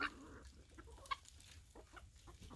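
A backyard chicken gives a few soft, scattered clucks close by in a quiet setting, with no one talking over them.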